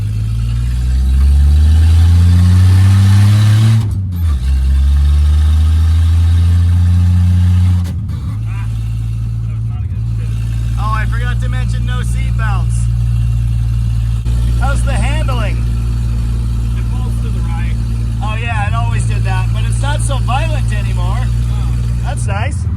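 A 1967 Plymouth Barracuda engine revs loud and close for several seconds, then settles into a steady idle while people talk over it.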